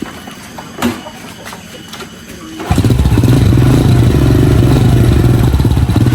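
A motorcycle engine starts up abruptly after a few quiet seconds with faint clicks, then runs at a steady, loud, rumbling idle with a slightly rattly texture close by.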